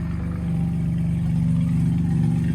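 A nearby BMW engine runs with a steady, low, droning rumble that holds at an even level throughout, with no other sounds on top.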